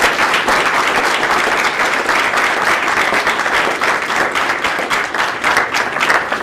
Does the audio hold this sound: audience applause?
yes